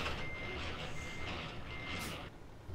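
A truck backs out from under a trailer in American Truck Simulator, its reversing alarm beeping steadily over a loud diesel engine rumble, ending with a brief hiss of air near the close.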